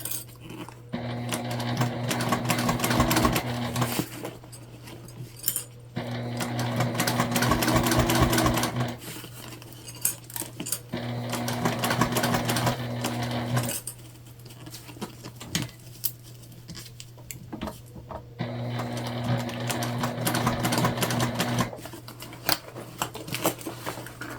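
Sewing machine back stitching a multi-panel tote bag, starting behind a handle: four loud bursts of rapid mechanical stitching, each a few seconds long, separated by quieter pauses over a steady low hum.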